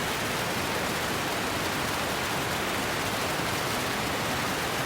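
Simulated rain at high Atacama-like altitude, modeling methane rainfall on Titan: a steady, dense hiss of countless drops, continuous and even in loudness throughout with no voices.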